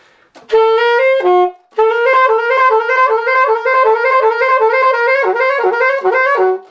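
A saxophone plays a short four-note phrase over and over in a steady, bright rhythm after a brief opening flourish, loud and close.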